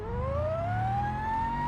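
A car's race transmission whines in BeamNG, a clear rising tonal pitch sweeping steadily upward over a low engine drone, close and continuous.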